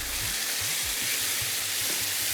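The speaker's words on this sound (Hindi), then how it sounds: "अब इससे हमने ज़रा भूनना है इसको, ताकि ज़रा सा अच्छा सा ऑयल आ जाए" Ginger chicken sizzling and frying in hot oil in a pan, a steady loud crackle throughout with occasional stirring scrapes underneath.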